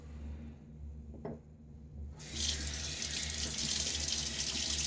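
Tap water gushes steadily into a sink while a safety razor is rinsed during a wet shave, starting after a quiet stretch with a brief drip-like sound, then running loud and continuous.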